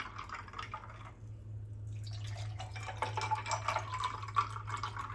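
Fruit juice is poured into glasses for an island fruit punch, a soft trickling and dripping liquid flow that runs on close and steady with a brief pause partway, with no talking.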